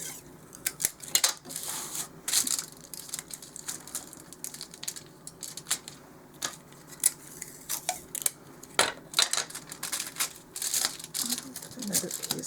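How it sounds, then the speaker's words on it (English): Double-sided tape pulled from a roll and pressed down while making a doll-size bat cake, producing a series of close, sharp crackling rips and taps in irregular bursts. "I'm going to use some double-sided tape."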